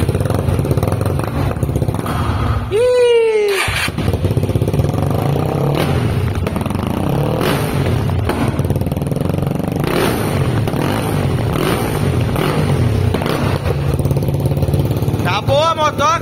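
A Honda Twister 340cc motorcycle engine running on methanol cranks with a rising whine, catches and settles into a loud, steady rumbling idle, with people talking over it.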